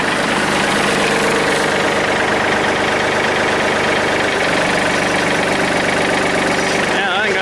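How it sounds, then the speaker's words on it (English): Loud, continuous rumble of a tractor engine running steadily, with a sudden change near the end. "Just pulling the tractor back again"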